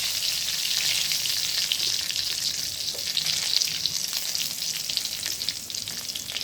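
Two dried red chilies, a bay leaf and five-spice seeds sizzle in hot oil, a bright, steady crackling hiss that stays close and constant with no talking.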